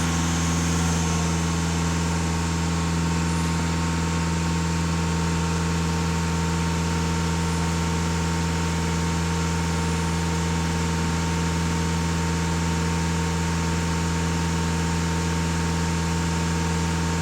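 An Audi EA288 diesel engine with a soot (diesel particulate) filter fault holds at raised revs, giving a steady, loud, unbroken hum with strong low tones and no speech.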